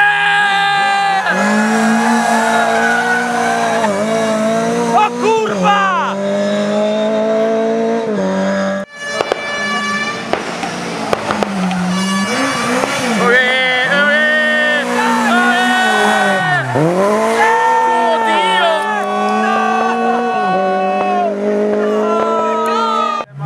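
A rally car in a video game drifting through a curve, engine revving and shifting pitch with sustained tyre squeal, loud and continuous, with people talking over it.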